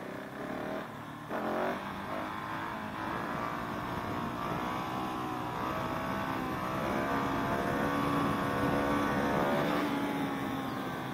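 A KTM SMC R motorcycle engine revs during a wheelie, its tone climbing and holding at a moderate distance with wind rush over a fairly quiet, continuous stretch.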